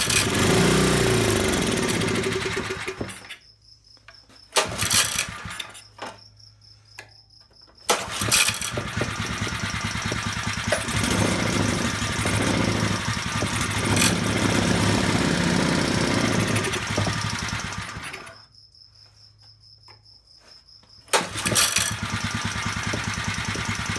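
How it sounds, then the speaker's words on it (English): A Harbor Freight 2hp generator engine runs loud and close, cutting out twice into near silence and catching again each time, with a steady rough drone between the stops. "Yeah, it's actually running pretty good."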